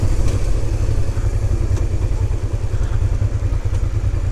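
A motorbike rides along a road in China, its engine a steady, close, continuous drone with faint rattling clatter and no talk.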